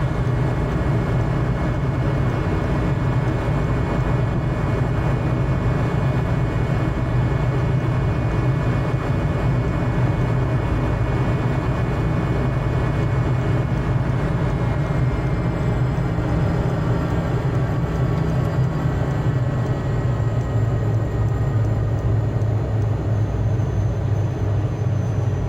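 Steady, loud jet engine drone from a Learjet flying in Microsoft Flight Simulator, a continuous broadband roar with low rumble and faint tonal whine, no talking.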